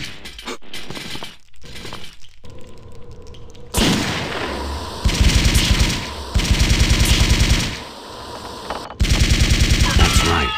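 Automatic gunfire in the video game Blood II: The Chosen: after a quieter stretch of clanking and noise, three loud rapid-fire bursts rattle out close up, separated by short pauses.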